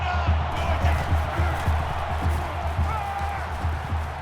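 Stadium crowd roaring in NCAA 14, a college football video game, with Michigan playing at Oklahoma; a steady, dense wash of crowd noise and cheering with faint thumping underneath and no clear breaks.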